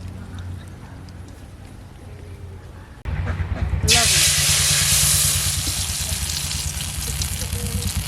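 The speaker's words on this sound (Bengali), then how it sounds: "কড়াই গরম হয়ে গেছে, এখন তেল দিয়ে নেব।" After a few seconds of quieter background clatter, a loud, bright hiss bursts in as oil sizzles in a hot wok and keeps going strongly.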